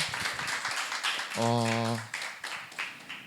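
A crowd at a church summer retreat claps steadily for a few seconds, with a brief droning tone cutting through the middle of the clapping.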